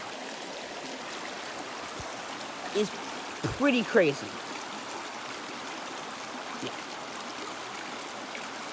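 A small creek flows steadily in the background as people talk over it, with a few brief louder splashes or footsteps through the water partway through.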